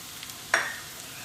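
Onions frying in a pan as turmeric powder is added, soft background sizzle broken by one brief louder hiss and stir near the middle, quiet overall and without talk.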